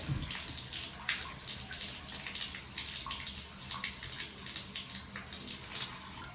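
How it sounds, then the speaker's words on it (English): Someone scrubs the outside of a bathtub while deep cleaning at home, making a steady, close, gritty rubbing with repeated brisk strokes. Soft watery sounds run underneath, and no one speaks. "And scrub it real good on the outside."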